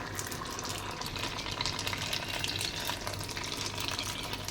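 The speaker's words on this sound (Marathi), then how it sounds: "पहिल्यांदा मी एकच तळणार आहे." A single paneer nest ball frying in hot oil gives a steady, dense, close sizzle and bubbling that holds at an even level throughout, with no voices.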